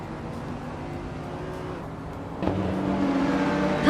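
The engine of a 1995 Ford GT90 race car in a racing video game at Central International Circuit hums steadily with other cars, then surges into a louder, rising rev as the race starts.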